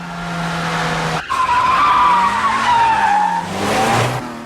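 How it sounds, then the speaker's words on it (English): Tires skid and squeal during the final car chase of the film Ronin through the streets of Paris: a loud sustained screech that wavers in pitch over roaring engine noise, then a second squeal near the end. "the film's final car chase, a 6-minute affair through the streets of Paris"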